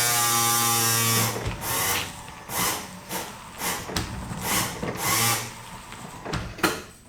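A small electric windshield washer pump motor on a Porsche 944 whirs steadily for about a second, then sputters and pulses unevenly with gurgling, buzzing bursts.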